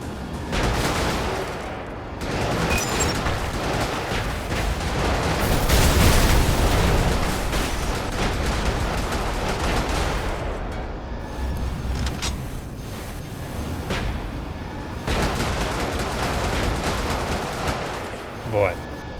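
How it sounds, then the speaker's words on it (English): Enemy gunfire aimed at the player in the mech game Brigador, with steady bursts of shooting and explosions that swell loudest midway, then quick shots close in. A voice talks over part of it. "He's shooting at me."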